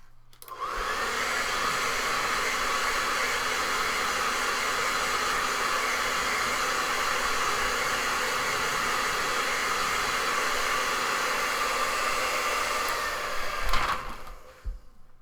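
A hair dryer blows steadily and loudly to dry paint on an eagle painting, its hiss running for about thirteen seconds before cutting off with a few soft knocks at the end.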